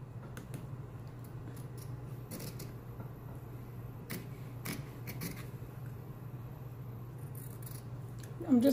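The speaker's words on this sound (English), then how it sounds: "I'm just going to cut the full circle" Fabric scissors snip around a full circle in a draping pattern, a quiet series of sharp clicks and cuts at uneven intervals over a low steady hum, with no talk.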